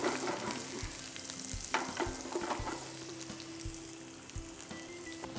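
Onions frying in hot oil with mustard seeds and red chilli for a Nadan chicken curry, a close, steady sizzle with occasional crackles and stirring scrapes, no talking.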